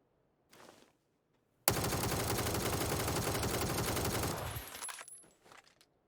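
Rapid automatic gunfire from a console session of PUBG, one sustained burst of about three seconds with tightly packed shots, preceded by a short faint blip and trailing off into a quieter tail.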